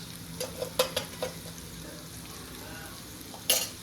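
A spoon scrapes and stirs spices into egg bhurji in a pan, giving a few quick clinking strokes over a soft frying sizzle, close but quiet, with a sharp tap of metal near the end.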